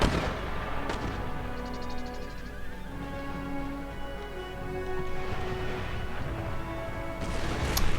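Artillery in the historical strategy video game Empire: Total War, heard as distant, muffled cannon booms over a steady battlefield din of rumble and tonal music, with a faint rapid rattle partway through.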